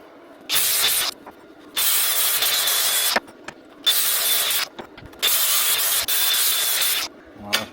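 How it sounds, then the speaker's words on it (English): Angle grinder working metal during a DC-to-DC charger install in a 4x4 Chevy Express van, sounding in four loud, sustained bursts of about a second each, separated by short quiet gaps. "Now we're going to grind it."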